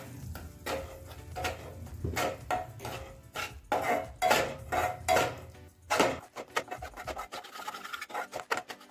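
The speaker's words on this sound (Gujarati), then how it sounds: "ઘી ગરમ થઈ જાય એટલે એમાં આપણે લોટ નાખી દઈશું ધીમા ગેસે આ શેકવાની છે" Flour roasted in ghee in a pan over low heat for sukhdi, stirred steadily: rhythmic close scraping and rubbing strokes of a spoon against the pan, fairly loud, with lighter quick scrapes toward the end.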